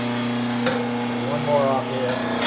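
A steady grinding rasp from an RBG712 sharpener working a lawn mower blade, with a constant low hum beneath brief scraping strokes, close and fairly loud.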